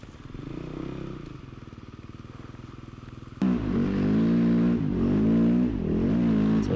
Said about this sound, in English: snow bikes can get pretty much anywhere with relative ease. You do got to be a little bit aggressive on the throttle